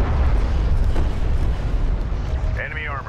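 Artillery fire support explosions from the real-time strategy game Homeworld: Deserts of Kharak rumble as a loud, continuous, low booming barrage, with a short electronic tone near the end.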